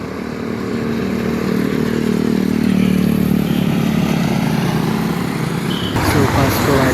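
A motorcycle rides along a road, its engine droning steadily and close for about six seconds amid traffic noise, then the sound shifts sharply as it slows or changes gear near the end.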